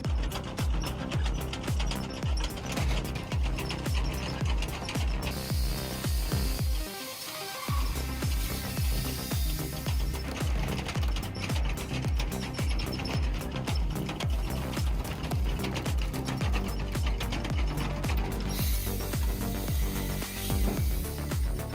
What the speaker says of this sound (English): A closed process from loading wood logs to cutting, splitting, and conveying the firewood to the conveyor.